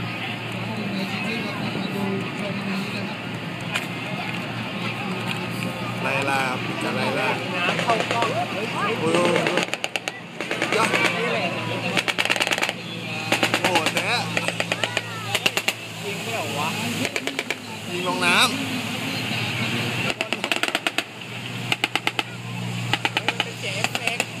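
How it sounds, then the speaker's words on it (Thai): Machine gun fire during a warship chase demonstration, heard as dense bursts of rapid shots over a continuous engine rumble, fairly loud, with people talking throughout. "ก็มียิงปืนด้วยนะ"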